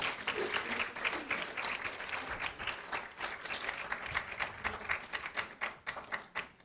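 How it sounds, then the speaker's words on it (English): Room-wide applause for a panel at the Data Tamasha Africa 2026 conference: steady, crackling clapping from many hands that continues throughout at moderate loudness. "That's not enough hand clap for the panel."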